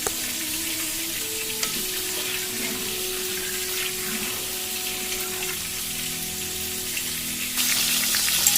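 Rice goes into a hot pan and fries with a steady, moderate sizzle. The sizzle runs evenly throughout and swells louder near the end.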